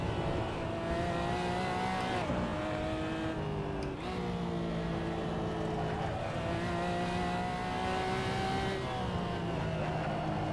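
Race car engine roaring steadily near its limit in Assetto Corsa at the Nordschleife, pitch climbing and dropping with gear shifts and braking, loud and continuous throughout.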